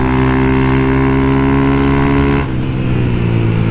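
Honda Fan 150 motorcycle, geared with a 15-tooth front sprocket, holds a loud steady engine drone at high revs that shifts and eases partway through, with no one speaking.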